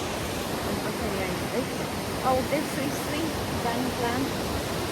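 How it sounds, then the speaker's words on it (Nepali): Steady broadband rush of flowing water, like a river running over stones, continuous throughout with faint voices in the background. "अनि यो खोला तर्नु पर्छ रे"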